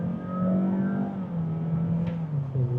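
A 2023 Honda HR-V 1.5 e:HEV EL hybrid accelerates hard, its engine tone holding a strong, steady drone, close and loud, with no talking.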